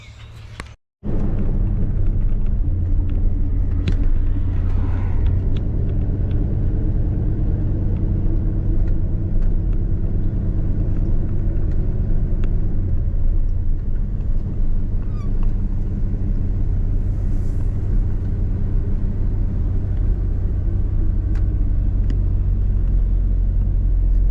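A square body truck with a sticky throttle and non-working secondaries drives along after a brief quiet moment, its engine giving a loud, steady, low rumble throughout with no one talking.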